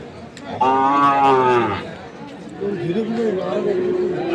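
Sahiwal breed bull calves at a busy weekly cattle market low with a long, loud moo close by, followed by a second softer lowing call, over a background of crowd chatter and voices.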